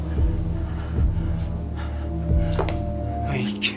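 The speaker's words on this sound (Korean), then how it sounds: "오늘 같은 날이죠. 비 오는 날." Steady rain falls in a dark outdoor setting at night, a dense continuous patter with a few heavier low thuds and rumbles mixed in, fairly close and with no voices.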